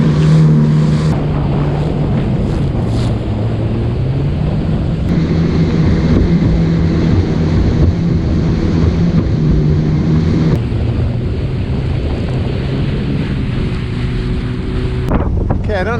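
A Yamaha jet ski runs steadily along a tidal river in Florida. The close engine drone rises and falls under heavy wind buffeting on the microphone, and there are brief bursts of splashing.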